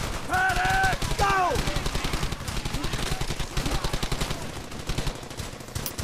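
Machine-gun bursts in the World War II shooter Brothers In Arms: Hell's Highway, rapid dense gunfire throughout with shouted voices over it early on, loud and continuous with a rattling rhythm.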